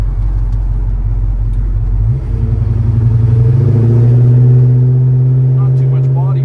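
A 1968 Chevrolet Chevelle Malibu engine rumbles loud and close while driving, a deep low drone that rises in pitch as the car accelerates, with a voice talking over it.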